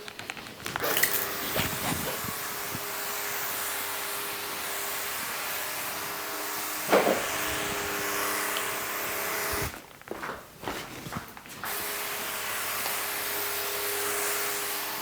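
A steady hissing spray of micronutrient fertilizer onto lemon tree leaves runs for long stretches, broken by a few brief pauses and handling noises, close to the listener with no talking.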